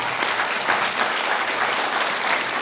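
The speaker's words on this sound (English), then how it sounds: "I need a round of applause for John." An audience at a local history presentation on mining and ghost towns of Mahaska County breaks into steady applause, dense overlapping clapping that fills the room evenly for a few seconds with no voices.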